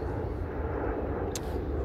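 Steady low roar of an airplane taking off near Nice airport on a Monday evening, a continuous distant rumble filling the short stretch with no pauses.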